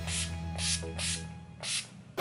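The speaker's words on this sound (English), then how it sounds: "So we're gonna use the Urban Decay All Nighter Makeup Setting Spray." Urban Decay All Nighter makeup setting spray misted from close range in four short, hissing pumps, spaced roughly half a second apart, with a quiet hum underneath and a sharp knock at the very end.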